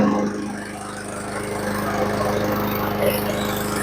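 A Honda lawnmower engine, being repaired after bogging down, runs steadily with a continuous mid-pitched drone and a fine rapid firing pulse, close and fairly loud with no speech over it.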